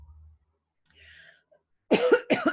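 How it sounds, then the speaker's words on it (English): After near silence and a faint rustle, a person gives two harsh, close coughs in quick succession. "I had to cough there"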